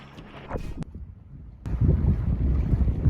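A sailboat runs in 15 knots of wind with the genoa fully out, giving steady close wind buffeting and rushing water that grows louder partway through, with a few brief knocks early on.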